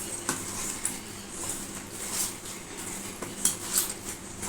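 A spoon scraping and clinking against a bowl while prawn marinade is mixed, repeated irregular metallic taps and rubs close up, fairly quiet throughout.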